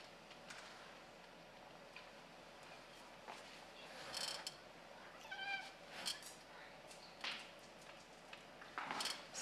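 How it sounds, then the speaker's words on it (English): A pet cat meows a few times, fairly close but soft, while metal bolts clink and rattle in quick irregular bursts against a quiet room hiss; no talking is heard. "while I satisfy my cat's lust for bolts just a bit"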